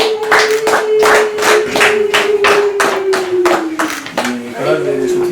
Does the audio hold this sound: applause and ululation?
yes